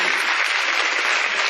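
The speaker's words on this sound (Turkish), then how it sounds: "Burada alkış var bence yani." Audience applause fills the whole short stretch, a steady dense wash of clapping at even loudness with a faint trace of voices underneath.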